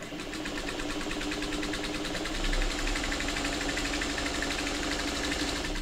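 A sewing machine stitches an Ohio Star quilt block, a steady, continuous close-up hum of rapid needle strokes that runs throughout with a slight swell partway through, no talking.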